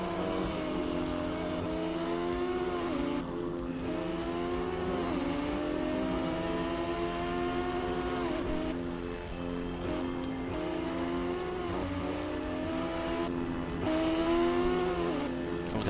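Slow LT3 car in a Second Life race, a steady engine drone with repeated rising and falling pitch sweeps as it shifts and accelerates, moderately loud and continuous, with background music tones.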